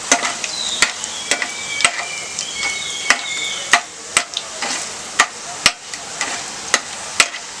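Whole spices hit hot oil in a pan while pumpkin curry is being made, sizzling steadily under a regular series of sharp metallic taps from a spoon stirring and knocking against the pan, close and fairly loud.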